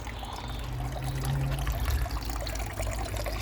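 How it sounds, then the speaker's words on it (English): A pump pushes water into a 1000-litre saltwater pond, giving a steady, close pouring and trickling flow with a low hum underneath, continuous from start to finish with no talking. "There's the water going in now."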